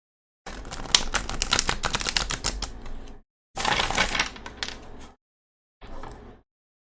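Rapid papery riffling of tarot cards being shuffled, close up, in three bursts separated by short pauses, the first burst longest.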